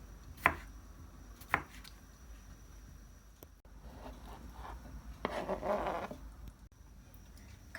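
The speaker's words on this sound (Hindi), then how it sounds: "अब ये ग्रेप्स भी काट लेंगे" A knife cuts grapes into small pieces on a board, giving two sharp taps early on, then softer scraping and slicing, all faint and close with no talking.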